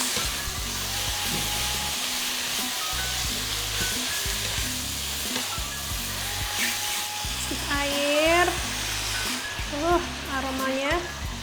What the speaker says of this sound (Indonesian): Lanjut kita kasih saus tiram, gula pasir, kaldu bubuk, sedikit garam, tumis-tumis.